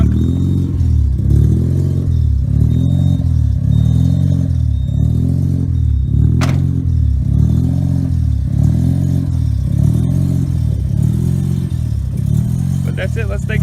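A single-turbo Mazda RX-7 FD rotary with a 10 psi setup and HKS blow-off valve idles loudly and close by, holding a steady, choppy lope of evenly spaced pulses throughout.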